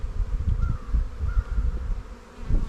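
Honeybees from a working colony buzz in a steady, close drone while hive frames are checked for the queen, with faint rustling and handling noises mixed in.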